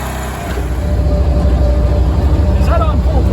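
A small engine on a side-by-side snowblower drones at full throttle, a continuous loud mechanical roar that builds in the first half-second, with a voice talking briefly over it.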